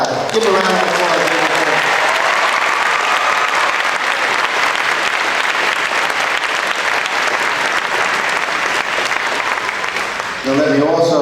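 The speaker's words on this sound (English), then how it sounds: "Give a round of applause." Loud, sustained applause from a commencement audience honoring a graduating academy class, a dense steady roar of many hands clapping that fills the space for over ten seconds, with voices heard briefly at the start and end.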